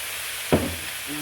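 Soy sauce hits a hot pan of shrimp fried rice with a single sharp burst of sizzle that quickly settles into a softer, steady frying hiss, close and fairly loud.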